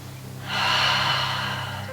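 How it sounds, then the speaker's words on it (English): A long, audible exhale through the mouth during a yoga stretch, starting softly and swelling into a steady breathy rush that slowly fades, close and clear over quiet background music. "Exhale through the mouth."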